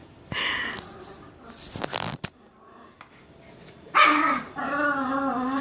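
A dog playing fetch with a ball makes funny high, seagull-like yelps and whimpering cries in bursts, close and fairly loud, with short pauses and clicks between calls.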